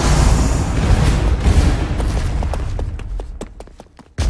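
TNT blowing up in the Minecraft: Story Mode video game: a loud, rumbling blast that fades into scattered crackles and thuds, then a sharp new burst right at the end.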